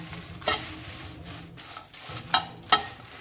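Bhutai sardines and chillies frying in oil, a low continuous sizzle broken by three sharp scraping stirs of a utensil against the pan.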